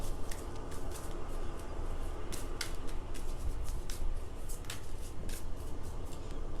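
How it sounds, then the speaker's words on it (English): Tarot cards are shuffled up close in a quick series of soft riffling slaps and sliding brushes, repeated steadily and fairly quiet. "I'm going to shuffle it this way."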